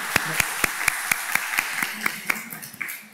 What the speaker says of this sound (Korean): 한번 박수로 한번 축하해 주시면 고맙겠습니다.